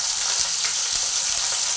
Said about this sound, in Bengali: এরপর পেঁয়াজগুলো দিয়ে দিলাম।